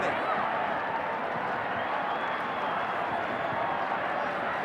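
A stadium crowd at a 1991 Winfield Cup rugby league fifth-place playoff between Western Suburbs Magpies and Canterbury applauds and cheers in a dense, steady wash of clapping that fills the whole stretch without a break.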